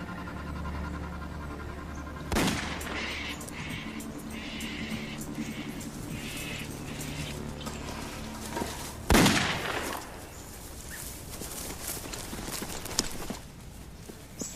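Two sharp, loud rifle shots fired by a farmer outdoors, the first near the start and a heavier one about seven seconds later, set against a steady background hum with faint thuds between.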